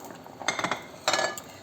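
Potatoes dropped into a cooking pot of kare-kare bulalo, two short clattering bursts of clinks and knocks against the metal, close and moderately loud.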